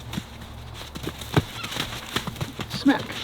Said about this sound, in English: They know how to have a horse fight.